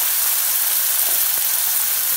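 Garlic and manathakkali berries sauté in hot oil for a Tamil kuzhambu, a loud, steady, close sizzle filling the whole stretch, with a faint stir or scrape near the middle and no talking.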